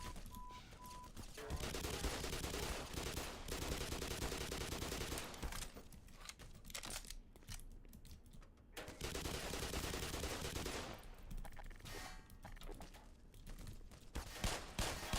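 Rapid weapon fire in the first-person shooter Black Mesa, dense bursts of gunshots that run almost continuously with a few short pauses, loud and close throughout.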